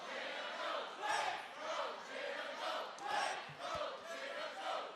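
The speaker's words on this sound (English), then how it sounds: "NXT Universe very vocal here. The crowd is always wild." A packed NXT wrestling crowd chants loudly in rhythmic, rising and falling surges, a far, echoing roar of many voices pulsing about once a second.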